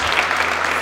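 A brief, dense wash of congregational clapping in a church, loud and continuous throughout with no break.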